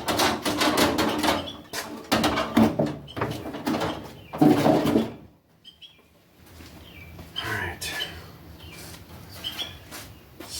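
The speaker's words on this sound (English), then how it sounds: "Let me get this door out of the way." A Ford F350 pickup door is handled and moved in a series of close, loud knocks and scraping clunks over the first five seconds, then fainter rustling and handling noises follow.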